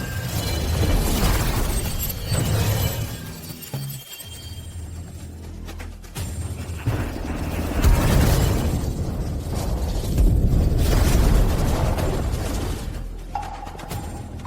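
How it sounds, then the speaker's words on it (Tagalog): In an animated fantasy story, a fire-element explosion erupts as a dense, loud series of bursting, crackling blasts and shattering impacts that rise and fall over several seconds, with no talk. "Bakit may ganito kalakas na pagsabog ng elementong apoy?"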